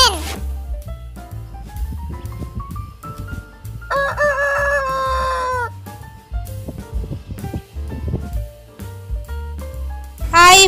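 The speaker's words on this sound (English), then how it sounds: "H for hen." A rooster crows and a hen clucks within a bouncy children's phonics song, with music playing throughout and the bird sounds mixed under it.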